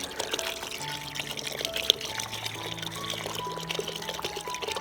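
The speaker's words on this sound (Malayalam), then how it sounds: "അപ്പോൾ ഞാൻ ഈ വെള്ളം കൂടെ ഒന്ന് ഒഴിക്കുവാണേ." Water is poured into an organic orchid fertilizer mix of oil cake and fresh cow dung, giving a steady splashing wash that runs continuously at moderate level, with no voices.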